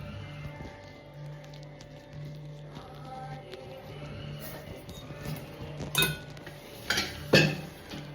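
A bronze spoon clinks against dishes in a kitchen, with several sharp metallic chinks clustered toward the end over a low background hum.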